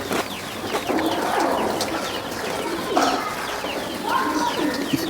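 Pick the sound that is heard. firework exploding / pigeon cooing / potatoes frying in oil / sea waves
pigeon cooing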